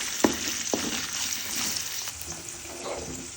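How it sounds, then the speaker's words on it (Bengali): Onions frying in oil in a pan for a tempering base, a steady soft sizzle with a couple of sharp clinks and light stirring near the start, heard alone. "পেঁয়াজ দিয়ে দিলাম, তো পেঁয়াজের ফোড়নটা রেডি করে তারপর যা যা দেওয়ার মশলা দিয়ে ছোলাটা দিয়ে নিব।"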